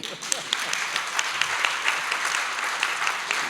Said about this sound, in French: Il faut aussi l'applaudir.